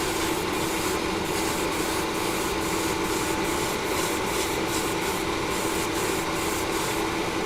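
Vallejo surface primer sprayed from an airbrush as a heavy third wet coat, a steady continuous hiss with faint rhythmic pulses, close and constant, no voices.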